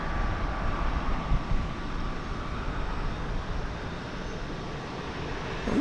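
Jet airliner at Dallas Fort Worth airport lining up on the runway for takeoff, a steady distant engine rumble and whine held at an even level.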